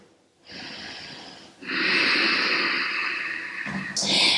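Deep, heavy breathing during a yoga half-straddle stretch: a short breath, then a long, steady rush of air that swells and holds, close and fairly loud, with no talking.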